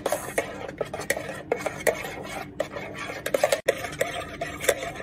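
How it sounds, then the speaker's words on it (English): An egg beaten into pancake batter in a bowl, giving rapid rhythmic clinks and scrapes of a whisk or fork against the bowl, close and busy, with no talking. "Next, we're going to mix it up nicely. Mix, mix, mix."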